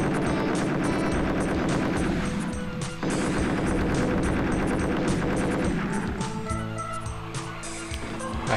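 A chaingun fires in Doom on level E1M1 of the Heroes.wad mod: dense, sustained rapid gunfire packed into a loud, busy wall of sound with game music and effects for the whole stretch.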